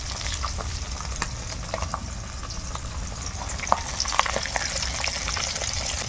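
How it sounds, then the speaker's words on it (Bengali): Pabda fish coated in raw oil fry in a hot pan, a steady close sizzle broken by sharp crackles and pops as oil spatters, growing busier toward the end. "মাছগুলো মাখানোর সময় তেল দিয়েছি কাঁচা তেল তাও ফাটছে মাছগুলো কতটা তেল ছিটে গেছে"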